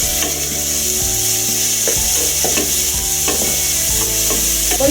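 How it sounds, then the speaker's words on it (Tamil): Onions sauté in a pan for hotel-style salna, with a continuous close sizzle and a repeated rhythmic scraping and knocking of a spatula stirring them, about once a second. "அதை நம்ம ஒரு 2 நிமிஷம் வதக்கிக்கலாம்."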